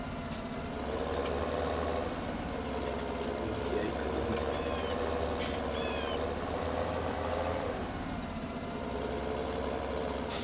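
A tractor engine idles steadily in Farming Simulator 17, a continuous low rumbling drone with faint mechanical clatter that holds an even level throughout.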